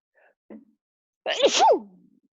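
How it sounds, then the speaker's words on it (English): A single sharp sneeze follows a brief quiet breath intake, close and fairly loud, with nothing else around it. "hang on, I'm gonna sneeze"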